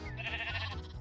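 Sheep bleating in the Minecraft video game, a steady wavering bleat lasting about a second and filling the clip, loud and close, with no talk over it.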